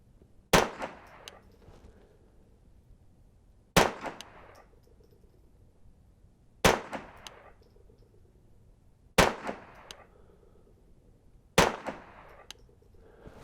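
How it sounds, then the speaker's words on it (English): Five single .22 rifle shots from a Brownells 10/22 takedown rifle at an outdoor range, each a sharp crack with a short ringing tail, spaced about three seconds apart with quiet between. "Let's shoot 10, let's shoot a few rounds here."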